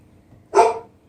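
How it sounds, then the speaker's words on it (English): A single loud, close dog bark, one sharp bow-wow lasting about a quarter second against an otherwise quiet indoor background. "just ignore the dogs for a minute."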